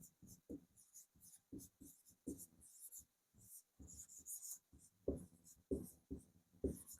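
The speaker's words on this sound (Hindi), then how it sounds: "तो यहाँ लिखेंगे कि पंडित सारंगदेव जी ने" Pen or chalk writing during a Hindi music-theory lesson on tala and theka, a quiet run of short scratchy strokes in irregular bursts, close and soft, with faint speech in the background.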